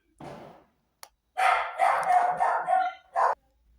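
A pet dog barks indoors in a short string of sharp, close, fairly loud barks, with a longer run of barking in the middle and one last bark near the end.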